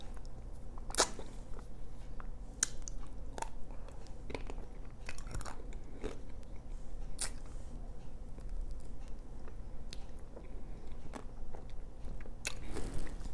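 Biting and chewing a Magnum Belgian chocolate ice cream bar with vanilla ice cream, close up: sharp cracks of the chocolate shell followed by steady moist chewing over a low, constant room rumble, with no talking.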